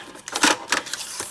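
A paper strip being cut to one inch: a quick run of crisp, close snipping and crunching sounds lasting just over a second.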